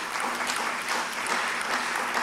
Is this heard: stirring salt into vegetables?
no